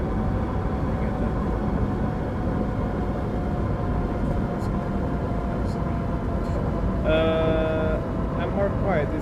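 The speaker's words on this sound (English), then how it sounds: "The train is loud. The train is very loud." Loud steady engine rumble of a train in Train Sim World 6, a continuous droning hum with a brief higher whine near the end, a voice talking over it.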